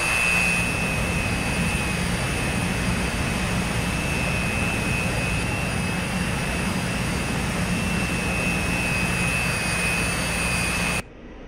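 A steady, loud, high-pitched jet engine roar with a sustained whine during a carrier short take-off in DCS World, continuous and unchanging, ending abruptly with no talking.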